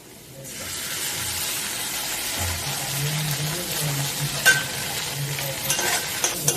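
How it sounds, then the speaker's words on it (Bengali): Chow mein vegetables stir-fry in a pan with tomato sauce, a steady close sizzle and hiss with scraping stirs and occasional clinks throughout. "সব সবজিগুলো আমি একটু ভালো করে ভেজে নেবো চাউমিনের"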